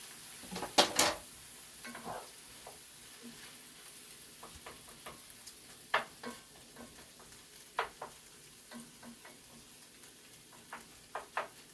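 Onions and peppers frying in a pan during breakfast prep, a quiet background sizzle broken by repeated sharp clinks and scrapes of stirring utensils against the pan, no one speaking.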